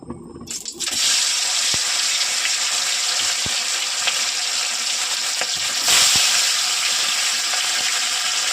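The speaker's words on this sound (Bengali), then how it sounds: "তেল গরম হয়ে গেছে, এখন মাছগুলো ভেজে নিচ্ছি।" Hilsa fish dropped into hot mustard oil: after a second of quiet, a loud hissing sizzle bursts in and holds steady, swelling briefly later, with occasional pops.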